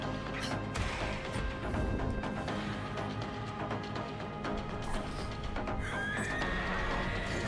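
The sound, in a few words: horse neighing in a video game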